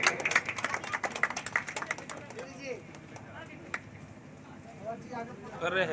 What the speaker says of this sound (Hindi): जोरदार ताली बजाते रहेंगे।